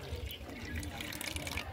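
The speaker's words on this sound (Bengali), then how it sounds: "এই উষ্ণ গরম জলটাকে আমি ঢেলে নিচ্ছি।" Warm water poured into a small container for preserving raw mangoes, a steady close liquid splash and trickle throughout with a few brief knocks.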